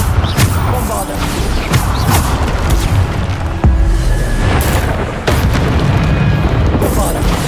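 Explosive booms from the Bombarda spell in the video game Hogwarts Legacy, loud heavy blasts striking at irregular intervals over a dense bed of crackling debris and rumble, with voices mixed in.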